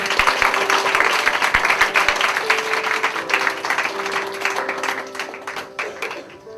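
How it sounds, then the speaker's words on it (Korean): A church college-group congregation claps warmly, a dense steady round of applause that starts strong and gradually thins and fades toward the end. "세아하고 지연한테 뜨거운 축복의 박수"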